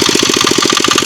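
A 5 horsepower engine-driven water pump running beside a pond, a loud, close, rapid chugging throb pulsing evenly without pause and with no talking.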